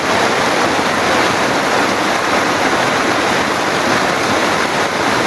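Strong floodwater current during heavy rain rushes loudly and continuously, a dense roaring wash with no pauses, close by.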